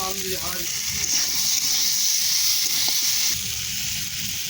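Potatoes being stirred into a frying curry, giving a steady hiss and sizzle of oil. Softer clinks and scrapes of stirring sit underneath, with a voice briefly audible at the start.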